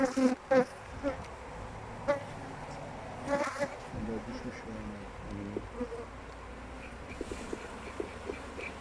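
Honeybees buzz steadily around an opened beehive at close range, with people talking intermittently through the humming.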